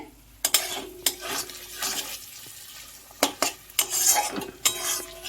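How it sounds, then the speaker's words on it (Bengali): Sour yogurt being whisked in a bowl with a spoon, with sharp clinks and scrapes against the bowl in irregular bursts and a faint sizzle of frying spice paste in the background. "এই দইটা একটু ফেটিয়ে নিচ্ছি।"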